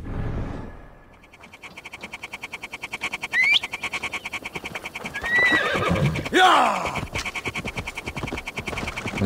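A horse in Assassin's Creed Valhalla trots with a steady rhythmic clip-clop and gives two or three shrill whinnies, close and fairly loud over ambient game sound.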